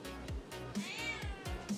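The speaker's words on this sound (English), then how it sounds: "Sorry if you hear my cat, because she never shuts up." A pet cat meows repeatedly and insistently, several close, drawn-out cries following one another in a steady rhythm with no talk.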